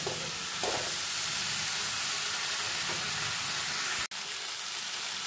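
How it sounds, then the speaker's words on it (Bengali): Ginger paste fries with mixed vegetables for chapor ghonto in a pan, a steady close hissing sizzle with a few soft stirring scrapes and a brief break near the end. "আদা বাটাটা দিয়েও সব সবজির সঙ্গে মিশিয়ে নেব যতক্ষণ না আদার কাঁচা গন্ধটা চলে যায়"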